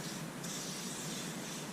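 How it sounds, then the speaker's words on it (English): A can of WD-40 sprays in one continuous, close hissing burst that lasts the whole short moment at a steady level, with no talking over it. "So you spray yourself WD-40."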